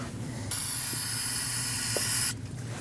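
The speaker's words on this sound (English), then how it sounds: "I'm going to use some brake parts cleaner to rinse it." Brake parts cleaner sprays in one continuous hissing burst lasting about two seconds onto a rear brake caliper of a 2013-2019 Ford Escape, close and fairly loud, then stops abruptly.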